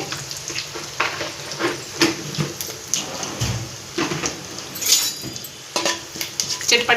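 Mustard seeds, cumin and turmeric frying in a pan while a spoon stirs them: a close, continuous sizzle with repeated metallic scrapes and clinks of utensil against the pan, with no talk.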